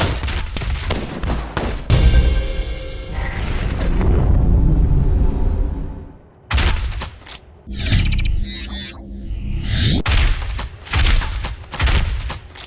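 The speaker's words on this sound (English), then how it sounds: "Doom Eternal redefines the standards for great enemy impacts and reactions, with the combat shotgun offering you the most visceral experience there is" Combat shotgun in the first-person shooter Doom Eternal blasting enemies: loud, repeated booming shots with heavy impact crunches and splattering hits, rapid bursts separated by brief lulls, dense and close.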